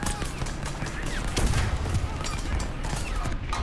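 Gunfire at a tank in War Thunder comes as a dense run of sharp shots and bursts over a rumbling battle bed, fairly loud and continuous across a few seconds.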